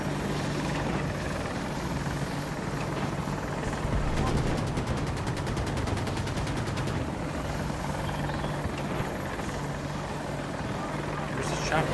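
Attack helicopter in the shooter game Battlefield 2042, its steady rotor drone running throughout with a bright buzzing burst of rapid gunfire in the middle, dense game battle noise around it.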